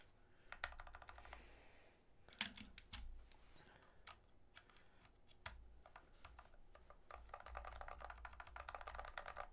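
Rapid clicky typing on a mechanical keyboard fitted with new keycaps, quiet and close, with irregular bursts of keystrokes that thicken into a steady rattle near the end.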